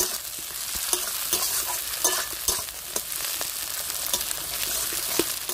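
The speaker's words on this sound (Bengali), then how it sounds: "এখন আমি টমেটো কুচিগুলো দিয়ে দেবো স্বাদটা বাড়ানোর জন্য।" Chopped tomatoes stirred into frying onions in a pan for katla fish kalia, a continuous close sizzle broken by repeated scraping stirs and utensil knocks.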